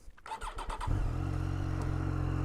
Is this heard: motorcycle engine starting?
yes